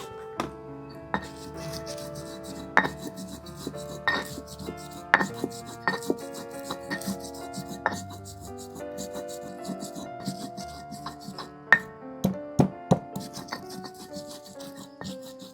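Coriander seeds are ground in a stone mortar (ulekan) in a village kitchen, giving irregular grinding scrapes and sharp knocks of stone on stone, with background music and occasional voices.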